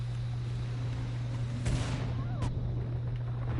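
Grenade blasts in Killing Floor 2 on the Moonbase map: two short, dull booms stand out over a constant low electrical hum and background game noise.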